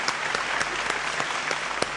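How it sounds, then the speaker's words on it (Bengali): Studio audience at a Bangla television talk show breaking into steady applause, rapid dense clapping with a few sharper claps standing out, moderately distant and without voices. "হাততালি।"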